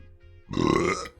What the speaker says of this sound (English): I can't stop burping.